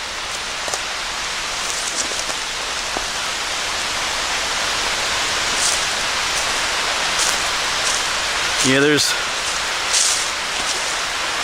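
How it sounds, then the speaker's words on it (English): A steady broadband rush of water cascading down a drop-off near Keyser Run Falls in Shenandoah National Park runs through the whole clip, with a brief spoken word near the end. "You can see a few cascades coming down up there."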